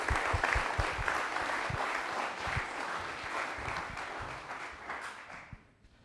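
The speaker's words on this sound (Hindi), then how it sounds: "तालियां एक बार इनके लिए जोरदार वाली होनी चाहिए।" Dense, steady applause from a large studio audience at a televised Republic Day quiz show, sustained for several seconds before tapering off at the end.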